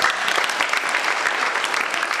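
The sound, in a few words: audience applause for Jesus at a church service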